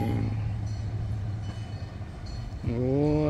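A forest sightseeing train moving off, with a steady low rumble of the moving cars that fades, then a loud, sustained horn sounding near the end.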